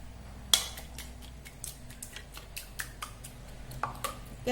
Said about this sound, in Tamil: சேர்த்து இதை நல்லா ஒரு மிக்ஸ் பண்ணி விடுவோம்